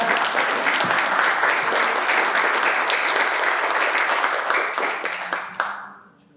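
An audience at a thematic panel on agroecology and peasant movements bursts into dense, sustained applause that continues for several seconds, then thins out and fades at the end.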